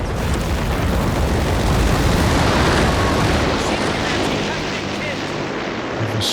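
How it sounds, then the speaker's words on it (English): Walking Stuka rocket barrage in Company of Heroes 3 gives a loud, continuous rumbling roar of overlapping explosions that fills the whole stretch, easing slightly toward the end. "And here comes another walking Stuka."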